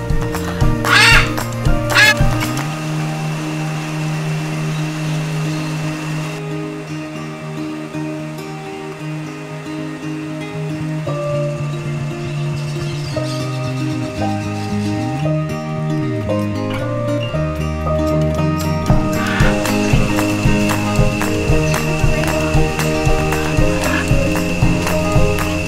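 Loud harsh squawks from macaws at a rescue center in Copan, Honduras, repeated calls over a continuous noisy background with other bird sounds mixed in.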